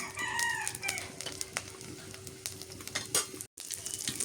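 Bay leaf, cinnamon, garam masala and cloves sizzle in hot oil in a pan during village-style beef curry cooking, a steady crackling hiss with occasional sharper pops and a brief clink, while birds chirp faintly in the background.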